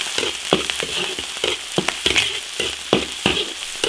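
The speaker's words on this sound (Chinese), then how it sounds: "烧油，炒土豆泥的调料，炒点五花肉" Pork belly stir-frying in a hot iron wok, a steady bright sizzle broken by regular scraping strokes of the spatula about every half second, close and loud.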